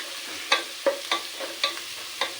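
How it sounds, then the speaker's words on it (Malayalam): Onion and curry leaves frying in a pan for a bitter gourd chilli fry, with a steady soft sizzle broken by about six sharp stirring scrapes at a fairly even pace. No one talks. "സവാളയുടെ കൂടെ കുറച്ച് കറിവേപ്പില ഇട്ടു"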